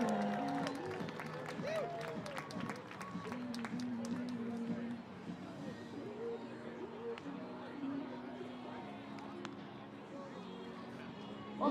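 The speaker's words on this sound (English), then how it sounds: "can you please get a round of applause for our umpires of tonight's game?" A ballpark crowd at an evening youth baseball game at Walker Stadium claps for the umpires, a moderate, somewhat distant patter mixed with talk, scattered voices and other stadium noise.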